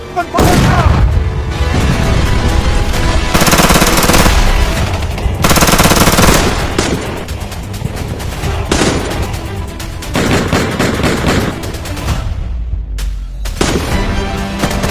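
A battle scene rages with dense bursts of machine gun fire and heavy booming artillery, loud and nearly continuous, with rapid rattling volleys layered over deep explosions throughout.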